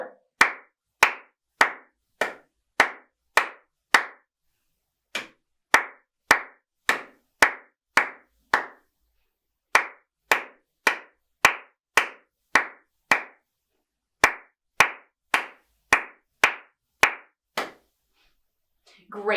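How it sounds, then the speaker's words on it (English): Steady hand claps keep a rhythm part for a saxophone duet practice, falling in sharp, evenly spaced groups of crisp slaps with short rests between phrases, close and clear with no talking. "I'm doing the clapping part"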